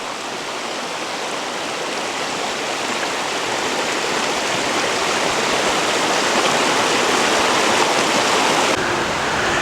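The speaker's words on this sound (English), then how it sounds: "Here's another stream coming down to the creek." A stream rushes down into a creek at the Seven Tubs Nature Area near Wilkes-Barre, Pennsylvania, filling the scene with a steady, loud, close wash of flowing water that holds constant throughout with no talking.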